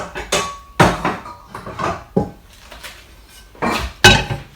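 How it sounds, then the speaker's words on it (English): Pots and pans clank as a frying pan is pulled out in a kitchen, a series of sharp metallic clatters and knocks at irregular intervals, close and loud with quieter rattling between hits. "So you need to get your frying pan out."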